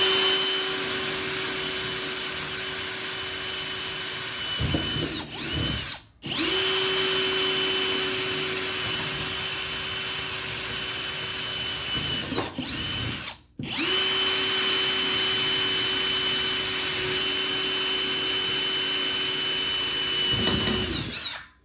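A power drill runs in long, steady high-pitched whines while drilling rivet holes in a jon boat patch, three sustained bursts separated by short pauses and spin-downs, close and loud with no talking.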